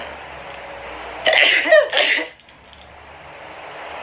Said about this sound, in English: Coffee always makes me sneeze.